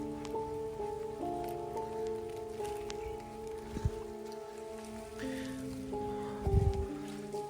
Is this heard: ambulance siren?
no